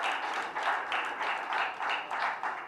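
A crowd applauds loudly and steadily to welcome Jammu and Kashmir Lieutenant Governor Manoj Sinha at a public event, a dense wash of clapping that swells in repeated waves without pause.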